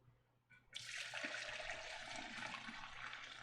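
Chicken stock pours steadily into a fat separator in a continuous splashing stream, close and fairly quiet, starting abruptly after a brief pause.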